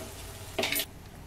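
Masala being fried for chicken chaap gives a short, bright sizzle burst in a pan, lasting a fraction of a second against low kitchen background.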